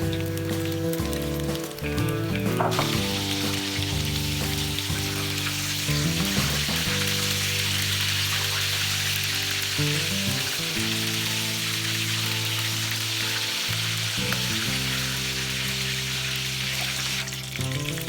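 Chicken wings frying in hot oil give a loud, steady sizzle and crackle that runs alone throughout, with occasional stirring clatter and no talk.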